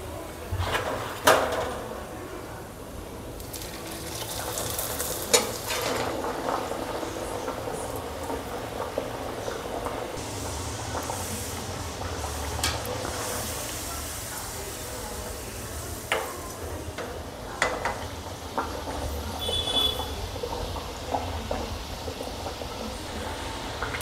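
Onion and potato kachoris deep-frying in hot oil produce a continuous bubbling sizzle, with occasional clinks and knocks from a utensil and moments of quiet speech.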